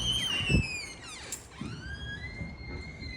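A building door to a laundry room is unlocked with a key fob and opened, giving a thud, then high squealing, sliding tones and soft knocks, fairly quiet and without talk.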